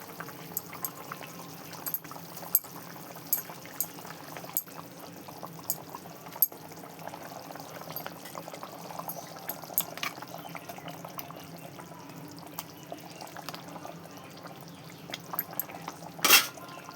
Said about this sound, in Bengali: এই যে ঝোলটা ফুটছে